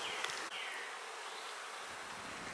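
A honey bee colony packed into a small hive split with a virgin queen, giving off a dense, steady buzzing hum that stays close and unbroken throughout, with no voices.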